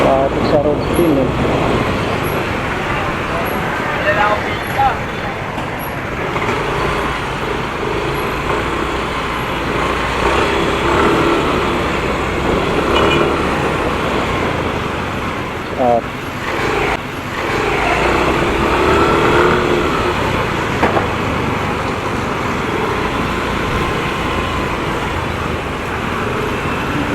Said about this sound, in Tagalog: Traffic sa road din eh.